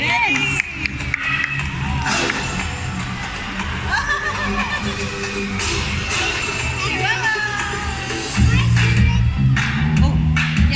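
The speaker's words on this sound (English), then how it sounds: "Have a round of applause for flag racing bird" Applause and cheering from an amphitheater crowd at a bird show, with children's voices and hubbub layered over the clapping and a host talking through it.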